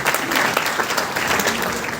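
Dense applause from an audience at a training seminar, steady crowd clapping throughout at a fairly loud, even level with no pause.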